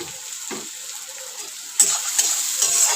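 Chopped carrots frying in a pan, giving a steady high hiss of sizzling oil with a few soft scraping stirs and knocks, close and fairly quiet, with no talking.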